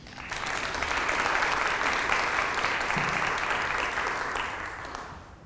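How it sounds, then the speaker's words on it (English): A room audience at a historical society lunch talk breaks into warm applause, a steady dense clapping that swells quickly, holds for several seconds, then fades out. "can we have a warm round of applause for Bill?"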